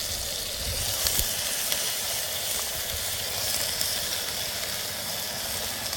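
Brinjals frying in a pan with onion, chillies and tomatoes, a steady close sizzle with soft bubbling and a few faint stirring knocks, no talk.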